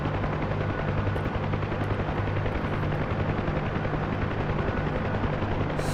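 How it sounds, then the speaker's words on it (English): A helicopter lifts off from a hover on a windy day, its loud, steady rotor thump and turbine whine filling the whole stretch at close range with no voices. "Normal takeoff from a hover."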